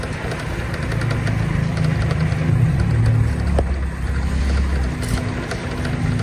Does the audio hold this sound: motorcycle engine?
yes